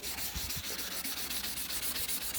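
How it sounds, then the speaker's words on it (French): A yellowed car headlight is sanded by hand in a steady, raspy back-and-forth rhythm of quick strokes. The sound is close and continuous, with no talk. "Bien le poncer. À la main, c'est toujours plus long."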